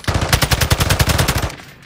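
Rapid automatic gunfire in Call of Duty: Warzone, a loud, close burst of about twenty evenly spaced shots that stops abruptly.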